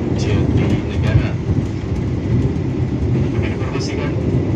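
An Argo Dwipangga executive train runs along the rails on the Solo to Jakarta route, a steady loud rumble heard from inside the carriage while a station-style announcement voice speaks over it.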